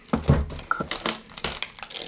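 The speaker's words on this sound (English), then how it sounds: "There's tape on it." Short bursts of crinkling and crumpling taped plastic packaging of a dig-it rock kit, close up, in quick irregular handfuls.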